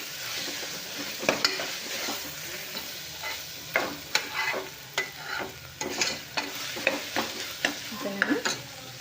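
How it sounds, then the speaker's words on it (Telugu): Ginger-garlic paste fries in a pan for a goat-head curry, a steady sizzle with sharp, irregular clinks and scrapes from stirring, all fairly close and with no voices. "ఇది బాగా అల్లం వెల్లుల్లి పేస్ట్ కూడా పచ్చివాసన పోయేంత వరకు బాగా ఫ్రై చేయండి"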